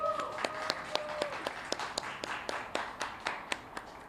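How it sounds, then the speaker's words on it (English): Applause at an outdoor community event with an Assemblymember and Veggielution, a fairly faint, loose crowd patter with distinct individual claps sounding at a roughly regular pace throughout. "Please give him a big applause"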